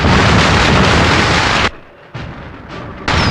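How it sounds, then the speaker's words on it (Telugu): Bombs and firecrackers burst in a movie action scene as a dense, roaring barrage of explosions that cuts off abruptly, followed by a couple of quieter bursts before another loud blast starts. "బాంబులు పేలుతున్న చప్పుడు వింటున్నావా?"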